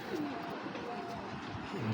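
A racing giribaz pigeon, a female with a fully black tail and green body, coos softly in a steady low murmur close by, with faint background noise throughout.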